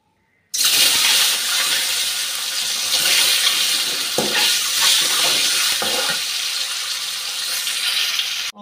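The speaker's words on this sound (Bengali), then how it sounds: "ডিমটা একটু নুন হলুদ দিয়ে ভেজে রাখছি।" Eggs seasoned with salt and turmeric hitting a hot pan for egg biryani, a sudden loud sizzle that holds steady and close for several seconds with faint spatters, no talking.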